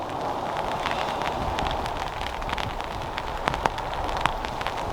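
Rain patters outdoors by the sea during a crabbing session, a constant dense hiss with occasional sharper drop taps, fairly close and unaccompanied by voices.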